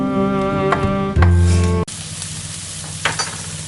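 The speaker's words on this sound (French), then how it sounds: "On a fait doucement rissoler l'oignon rouge." Red onion sizzling gently as it sautés in a sauté pan, a steady close frying hiss with a brief louder burst midway, no talk.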